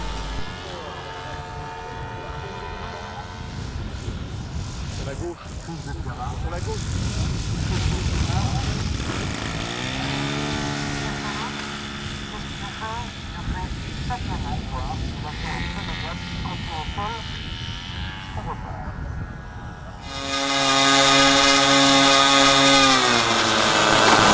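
A large-scale military-version Piper J3 RC model airplane flies at an air show, its engine droning steadily and shifting in pitch as it passes, growing louder near the end, under continuous commentary.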